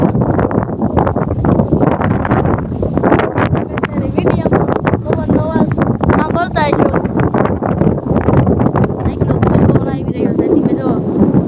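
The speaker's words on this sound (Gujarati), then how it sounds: "આ તમે જો અત્યારે ફૂલ આવે છે પવન" Strong gusting wind from a dust storm buffets the microphone in loud, rough roars that rise and fall continuously, with faint voices mixed in.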